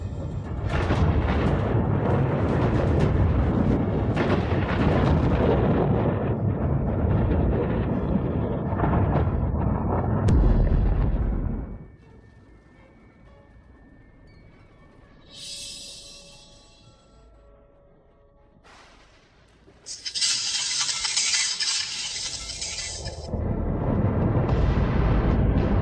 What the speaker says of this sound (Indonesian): Jenderal besar tewas disambar petir.